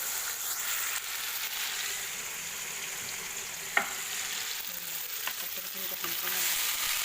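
Vegetables fry in a pan over melted tomatoes, giving a steady bright sizzle throughout with a few soft stirring clicks and scrapes near the middle and end.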